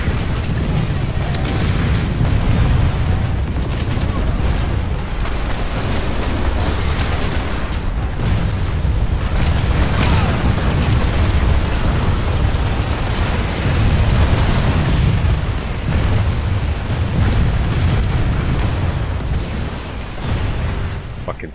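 A C4 charge detonating in a multiplayer shooter game, heavy rumbling booms within a loud, dense wash of blasts and gunfire, with players talking over it.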